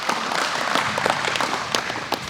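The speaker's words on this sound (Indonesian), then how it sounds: "tepuk tangan dulu buat Ustadz" An audience claps for an Ustadz, giving a short, dense patter of many hands that holds steady through the brief moment.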